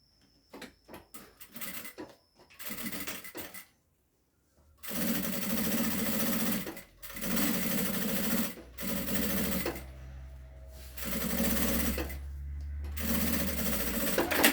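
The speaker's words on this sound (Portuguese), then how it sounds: "Venho aqui com a minha outra lateral e vou costurar" A sewing machine stitches a fabric side panel in long, loud, steady runs, broken by short pauses and a few quiet handling clicks between bursts.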